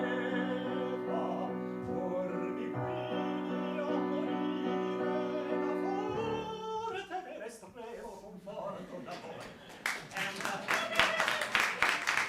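At an opera performance, audience applause breaks out as a sustained sung and orchestral passage fades. Scattered claps build into a dense, fairly close round over the last few seconds.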